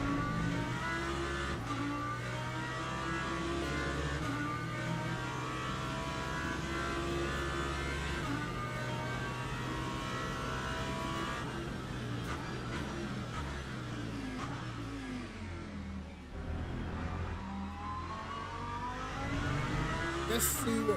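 Race cars in the Le Mans Ultimate sim at the 4 Hours of Sebring, running on wet tyres, give a steady, loud engine drone with shifting revs throughout, with a voice talking over it.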